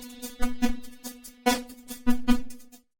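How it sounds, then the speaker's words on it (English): Keyboard notes played through the Tone Machine granular synthesizer mode in Kontakt 6, producing a buzzy sustained tone broken into rhythmic grainy stutters and bursts, played alone. "This mode acts as a sort of granular synthesizer."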